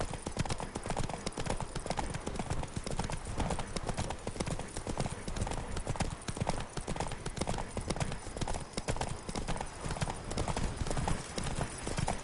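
Horse hooves clip-clop steadily and rapidly on the ground in a video game, a dense, continuous trotting clatter over a wagon journey, with a faint hint of a whinny mixed in.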